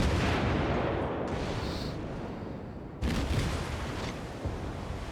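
Heavy naval guns fire from warships in the World of Warships game, big booming blasts that trail into long rumbling decay, one at the start and another sharp roar about midway, loud and close.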